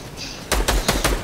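Video game gunfire aimed at a llama: four loud, sharp broadband shots in an uneven rhythm, each with a quick decay, after a brief quiet stretch.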